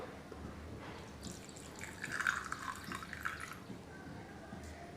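Milk pours in a soft, liquid trickle for falooda, rising for a couple of seconds before tapering off, faint and close against a quiet kitchen background.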